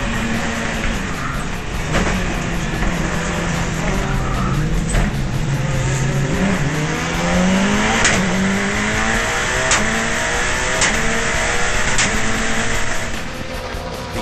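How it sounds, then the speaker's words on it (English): On-board sound from a race car at the start of a circuit race, a loud, continuous engine roar rising and falling through gear changes, with other cars close by and brief tyre noise. "Let's watch that start from on board with Roger Mears"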